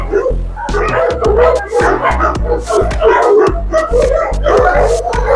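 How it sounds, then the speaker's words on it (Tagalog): Deep, repeated Neapolitan Mastiff barks in quick bursts at a kennel, loud and close, with some whining and yelps mixed in throughout. "Neapolitan Mastiff to. Neapolitan Mastiff."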